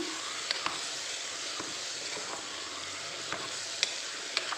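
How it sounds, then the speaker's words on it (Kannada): Ingredients for paneer pulao deep-frying in a pan make a constant broad sizzle, with a few faint ticks and pops of stirring scattered across it, close and steady with no talking. "ಸೊ ಇದೆಲ್ಲ ನೀಟಾಗಿ ಡೀಪ್ ಫ್ರೈ ಆಗಬೇಕು"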